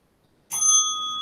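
A bell rings once at about the midpoint to mark the end of a workout round, a bright sustained ring that decays slowly.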